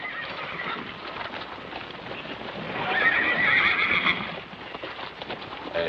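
Horses in a corral whinny and neigh loudly over a busy clatter of hooves clip-clopping on the ground, the neighing swelling to a peak midway and continuing throughout with no talk.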